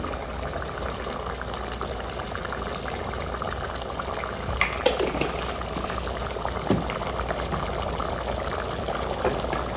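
A clay pot of biryani boils steadily, a constant bubbling and liquid churn filling the clip at moderate loudness, with a few brief clinks or stirs midway and no talking.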